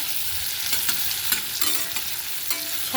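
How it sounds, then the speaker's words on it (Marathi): Onion sautéing in hot tempering oil for a potato curry, a steady bright sizzle with occasional stirring scrapes, close and continuous, with no talking. "फोडणीला आता हा छानपैकी कांदा परतून घ्यायचा आहे"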